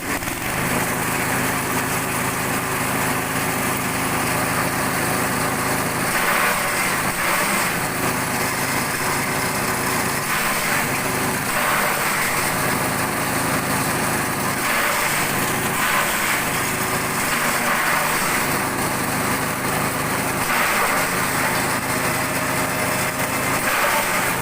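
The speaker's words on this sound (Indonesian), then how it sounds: "Kalau di tempat kami lebih efektifnya menggunakan mesin chopper." A forage chopper machine drones continuously at high revs while chopping fodder for silage, a loud steady engine whine with slight dips in load as material is fed through, no voices.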